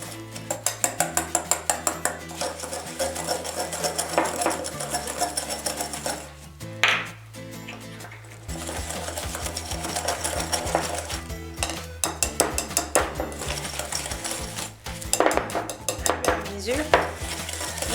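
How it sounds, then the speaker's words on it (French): Sugar and egg yolk are whisked in a bowl for an apple tart, rapid rhythmic metallic tapping of a whisk against the bowl in bursts, close and clear, with steady background music underneath. "Nous allons fouetter l'ensemble, sucre et"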